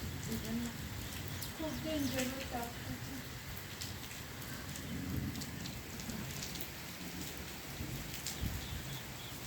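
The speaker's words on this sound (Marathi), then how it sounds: "पण आता पाऊस चालू झाला आहे" Steady rain hisses throughout, with a voice speaking briefly early on and a faint low rumble beneath the downpour, after a nearby lightning strike.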